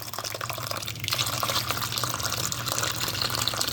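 Leftover water poured from a container into a seedling tray of Brandywine tomato transplants, a continuous close splashing gush that holds steady for a few seconds with no talking.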